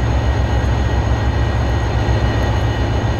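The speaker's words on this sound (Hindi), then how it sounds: "हमारा शताब्दी एक्सप्रेस जिसका कि ज़्यादा प्रायोरिटी है, हम लोग डिपार्ट कर रहे हैं WDG4D के साथ में" Diesel rumble of a WDG4D locomotive pulling away with the Shatabdi Express in the Railworks train simulator, a steady, loud low drone with constant engine noise and no voices.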